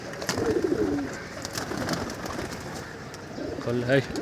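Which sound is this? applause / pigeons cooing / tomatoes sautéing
pigeons cooing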